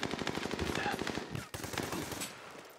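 Rapid machine-gun bursts rattle out in the Army of Two: The Devil's Cartel video game as gunfire hits the player, loud and dense, with a brief break midway.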